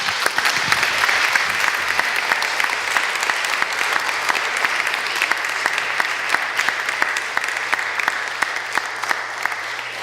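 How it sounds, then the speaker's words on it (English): A church audience gives a sustained round of applause, dense rapid clapping that stays loud and close from start to finish. "Give her a big round of applause."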